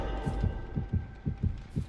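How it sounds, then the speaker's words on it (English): Heartbeat effect from a video game: steady double-thump pulses, about three per second, loud and low, repeating over a constant background hum with no talking. "Oh, that's the heartbeat."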